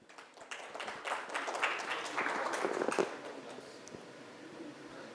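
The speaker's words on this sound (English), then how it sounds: "Ladies and gentlemen, please give a big round of applause for Mr. Lakeshri." A conference audience at an information security panel claps after a guest is introduced, with applause swelling over the first few seconds and then thinning into scattered individual claps.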